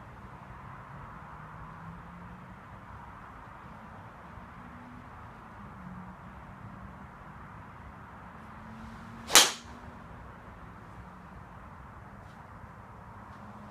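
A TaylorMade M1 driver strikes a golf ball in one crisp, sharp crack that rings out alone against steady outdoor background noise, with no talking.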